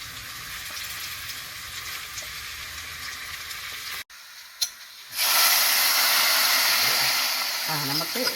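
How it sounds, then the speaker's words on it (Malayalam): Small shallots frying for a kingfish curry, a loud continuous sizzle and hiss that drops out briefly, then returns stronger and steady, with some stirring scrapes near the end. "ചെറിയ ഉള്ളി വറുത്തിടാം."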